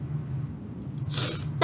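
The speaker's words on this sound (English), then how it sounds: "That's a sneeze." A single sneeze bursts out near the end, close and fairly loud, after a short breathy intake, with steady low background hum underneath.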